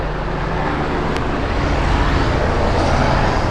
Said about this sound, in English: I'm going to wait for this helicopter to go by me.